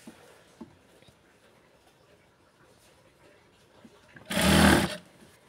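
A sewing machine stitching a blouse runs in a single short burst of rapid whirring near the end, loud and close after a stretch of quiet handling noises.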